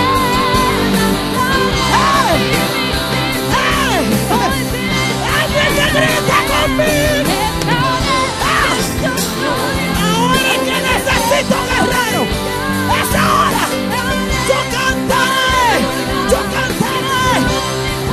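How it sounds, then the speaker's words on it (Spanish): A concert crowd yelling along with the performer, a loud, dense wash of shouting and cheering voices over music that runs without a break. "Alguien que grite conmigo."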